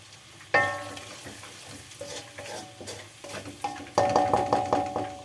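Ground spices stir-fried in a pan for an Indonesian vegetable dish, giving a steady sizzle under repeated scraping and clinking of a spatula against the pan, with the stirring strokes growing louder near the end.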